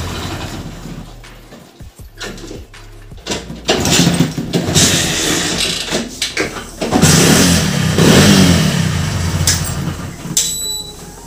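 A motorcycle fitted with an LPG kit is kick-started and its engine catches, then revs up and down in loud, close surges over about ten seconds.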